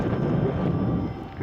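Gusty turbulent wind buffeting a microphone outdoors during a flight near power lines, a dense, loud, low roar that holds steady and briefly dips near the end.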